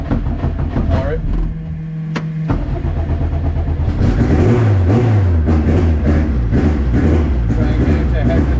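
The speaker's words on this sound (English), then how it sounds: "Try and get it to hesitate and idle." A Honda CRX engine running on E85 fuel, heard close as it idles unevenly with a few revs and shifts in pitch, while people talk over it.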